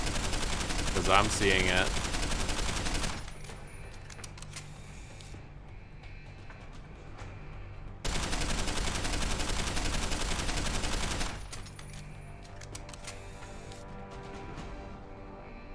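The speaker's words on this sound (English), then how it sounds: "Also, the gun's a bit loud." A gun fires in Deus Ex: Human Revolution in two loud, dense bursts of rapid shots, each trailing off into quieter game ambience, while someone briefly talks over the start.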